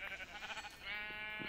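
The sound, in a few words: sheep bleating in Minecraft video game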